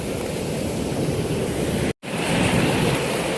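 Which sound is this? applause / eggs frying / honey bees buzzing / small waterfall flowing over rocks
small waterfall flowing over rocks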